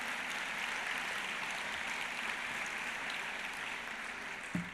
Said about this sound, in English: you can clap for him if you want.